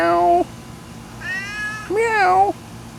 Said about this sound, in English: Got the neighbor's cat hanging out with me now.